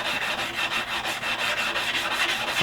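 A custom knife blade being hand sanded after heat treatment: a steady run of fast, rhythmic rasping strokes, close and fairly even in loudness, with no voices.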